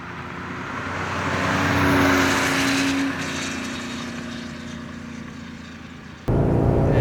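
A 1971 Porsche 911 2.2 T pulls away, its engine drone swelling to a loud peak and then holding steady. The sound cuts abruptly to a louder, closer engine note near the end.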